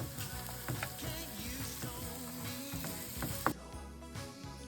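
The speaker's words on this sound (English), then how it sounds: "Now add 2 cloves of finely chopped garlic and saute for another minute." Chopped onions and garlic sauté in butter in a pan with a soft, steady sizzle and occasional scraping clicks. It stays fairly quiet and close, with no talk.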